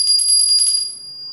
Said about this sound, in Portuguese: Por exemplo, um sino.